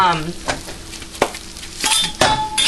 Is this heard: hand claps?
no